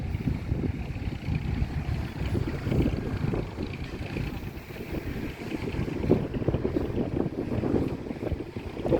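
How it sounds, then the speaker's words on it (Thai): Strong wind buffets an outdoor spot where a load is being dumped, a steady low roar of gusts hitting the microphone throughout with rough, rumbling texture and no clear voices. "ลมแรงจัดเลยทุกคน"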